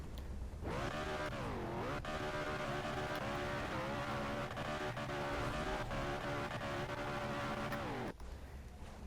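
A rock crawler's engine in BeamNG.Drive revs up and holds a steady, buzzing drone at part throttle for several seconds, with pitch dipping and recovering before cutting off abruptly.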